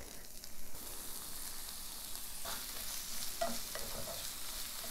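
Zucchini, tomato, jalapeno and onion sautéing in an oiled skillet, giving a steady, close sizzle and frying hiss throughout, with occasional stirring scrapes and no talk.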